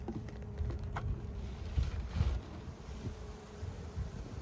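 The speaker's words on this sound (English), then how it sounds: "And we see plenty of bees." Honeybees drone steadily in an opened hive, a continuous close buzzing with small fluctuations and faint handling noises.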